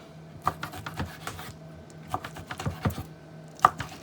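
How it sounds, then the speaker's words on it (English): A knife cuts a ham steak into small cubes on a cutting board, a series of quick, close, irregular tapping chops with short pauses, no talking. "Take your ham steak and cut it up just the way you want it."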